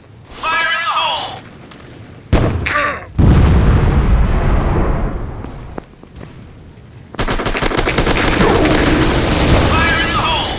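Video game Strike Ops battle: bursts of rapid gunfire and heavy grenade blasts roar loudly, with short quiet gaps between long sustained volleys, and a voice calling out over the action.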